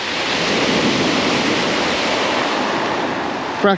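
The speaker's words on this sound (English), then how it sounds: "I can see that wind is going to be a bit of a problem" Strong wind buffets the microphone on Hordle Cliffs beach, with a constant loud roar of wind mixed with breaking surf, steady from start to finish.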